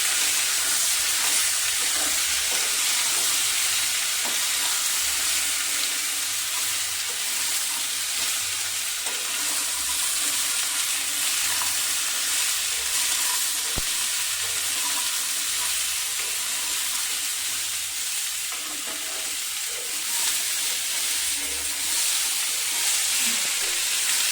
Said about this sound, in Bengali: আলুটা একটু ভাজা ভাজা মতো হয়ে গেছে